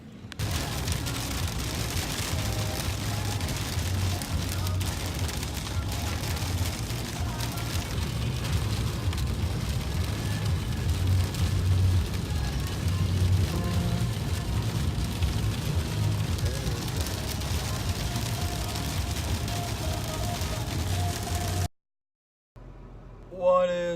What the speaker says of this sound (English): Jeepers, it is thunderstorming.